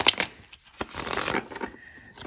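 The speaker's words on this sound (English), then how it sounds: "let me just do a little bit of shuffling" Tarot cards being shuffled by hand before a Celtic cross reading, giving a few soft, close papery riffling bursts with brief pauses between them.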